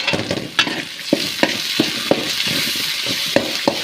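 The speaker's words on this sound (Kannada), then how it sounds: "ಸೊ ಟೊಮೊಟೊ ಸ್ವಲ್ಪ ಸಾಫ್ಟ್ ಆಗೋವರೆಗೂ ಫ್ರೈ ಮಾಡ್ಕೊಳ್ಳಿ" Tomatoes frying with salt in a pan sizzle steadily, with a spoon stirring and scraping in repeated knocks and scrapes, close up and with no voices.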